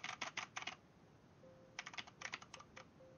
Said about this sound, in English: Okay, that's just me slamming on keys.